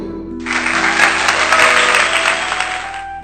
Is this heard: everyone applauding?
yes